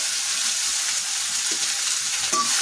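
Onions and dried red chillies frying in hot oil, a dense continuous sizzle close to the pan with a brief clink or stir near the end, no voices.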